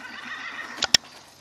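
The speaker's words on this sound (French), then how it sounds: "C'est mon cheval." A horse in the video game Skyrim whinnies with a high, wavering neigh, and two sharp hoof clops follow close up.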